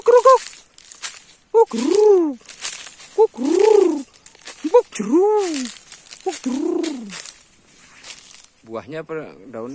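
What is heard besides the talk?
bird calling, pigeon-like cooing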